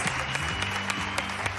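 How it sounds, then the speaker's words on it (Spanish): Studio audience applause on the TV singing competition La Voz Argentina, loud continuous clapping from a crowd with music or a low tone running underneath. "Este aplauso para Pilar, que sigue en La Voz Argentina."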